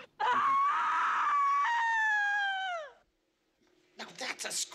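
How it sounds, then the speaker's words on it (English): A loud, sustained scream from the 1981 horror film Blow Out rises sharply, holds for nearly three seconds and then cuts off. A short silence follows, then a burst of rough noise. "Now that's a scream!"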